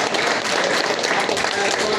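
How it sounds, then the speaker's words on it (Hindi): An audience applauds at a Janata Dal (United) membership drive event in Muzaffarpur, with dense, even clapping throughout the brief stretch and voices blended in. "रंजू गीता जी हम लोगों के बीच बीच में आ चुके, ताली बजाकर आप इनका"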